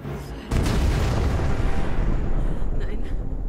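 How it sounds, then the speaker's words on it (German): Detonated explosive charges blow in the Crysis video game, a sudden loud boom at about half a second that swells into a sustained, heavy rumbling roar lasting several seconds. "Das wäre jetzt eine Riesensprengung."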